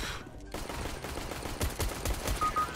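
Gunfire in a shooter game: a rapid run of sharp shots, loud and close, with a few brief bursts clustered toward the end.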